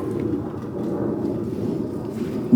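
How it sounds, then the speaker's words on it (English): Steady rain falls outside around a parked vehicle, a dense, low rumbling wash of drops continuing evenly at moderate loudness, with a brief knock at the very end. "it's still raining out here"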